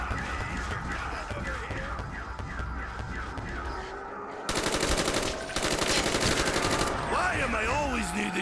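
Rapid automatic gunfire from Call of Duty zombies on the Kino Der Toten map, in steady bursts that grow denser and louder midway, with other game sounds mixed in.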